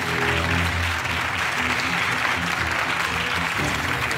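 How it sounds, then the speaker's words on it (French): A theatre audience at a stand-up comedy show claps steadily and loudly throughout, a dense, even wash of applause with no speech. "Allez, vous pouvez applaudir"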